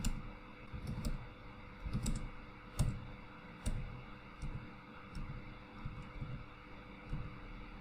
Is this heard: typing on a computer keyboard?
yes